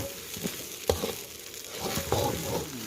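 A metal spatula scrapes and scoops rice up from the deep bottom of a hot wok during stir-frying, with a steady close sizzle broken by a few sharp scraping strokes.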